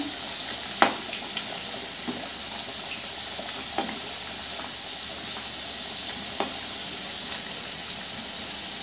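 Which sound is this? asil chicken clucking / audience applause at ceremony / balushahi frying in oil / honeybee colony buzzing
balushahi frying in oil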